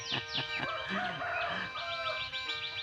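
Chickens in a backyard coop clucking and squawking close by, with a rooster crowing and several hens calling over one another in quick, overlapping bursts.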